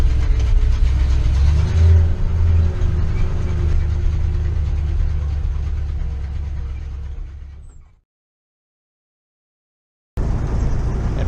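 A 1984 Claas Dominator combine harvester engine runs with a deep, steady rumble and a faint revving rise that fades away, followed by a few seconds of silence before the engine noise returns.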